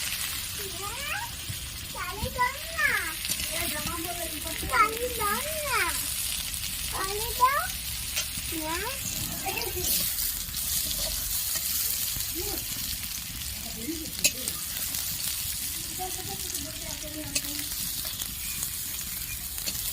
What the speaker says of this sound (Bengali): আর একটু লাল লাল করে ভেজে নেব